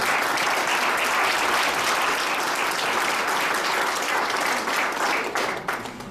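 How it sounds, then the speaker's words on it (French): Sustained audience applause from a crowd at a ministerial economic announcement, a steady dense patter of many hands clapping at full strength that thins slightly toward the end. "Vous pouvez applaudir."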